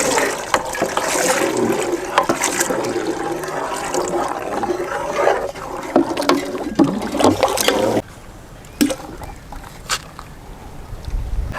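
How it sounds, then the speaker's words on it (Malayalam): Dissolved sugar syrup is poured into a banana milk juice, giving a steady gurgling, rushing pour that thins into a few scattered splashes near the end. "നമ്മൾ അലിയിച്ചെടുത്ത പഞ്ചസാര ഒഴിക്കാം."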